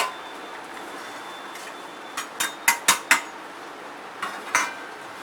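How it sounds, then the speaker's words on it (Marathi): Dried fish (sukat) dry-roasting in a pan at home, heard as a few sharp, close metallic clinks and scrapes of a utensil against the pan, spaced irregularly over a quiet background. "ही सुकट मी थोडी भाजून घेते."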